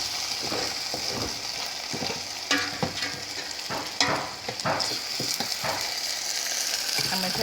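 A spoon stirring a pan sauce thickened with cornstarch for a roast chicken dinner, with steady scraping and clicking strokes over a soft, continuous sizzle close by.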